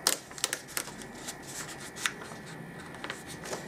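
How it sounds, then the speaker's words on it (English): Painter's tape peeled off a kiss-cut sheet gives soft, papery crackles and a few sharp ticks scattered across a few seconds, close up and fairly quiet with no talking. "I'm just undoing the painter's tape"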